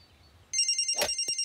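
A cell phone rings nearby with a loud, repeating electronic ringtone that starts abruptly, with a short thud partway through.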